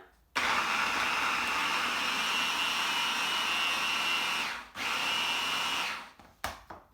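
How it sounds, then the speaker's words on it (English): A blender whirs steadily while blending sweet potato chocolate frosting, a loud continuous motor drone that briefly dips and restarts midway, then cuts off with a few short bursts at the end. "We're going to pop the lid on, and then we're going to blend."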